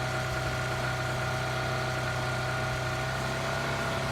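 A buggy's engine in a video game, heard as a faint, steady, low mechanical hum with an even idling drone and no talk over it.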